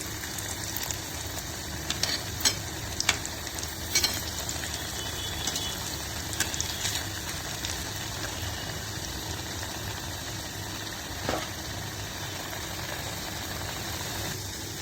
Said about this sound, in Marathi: एक साइड झाल्या भाजून आता अनेक साइडा भाजतात